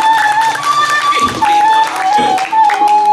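The audience at a Balinese drama gong performance in Bangli gives a short round of applause under loud talk, with sustained musical tones running through it.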